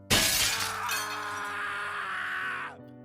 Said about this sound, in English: With an explosion of glass, the woman smashed her mug against the right side of his face as hard as she could.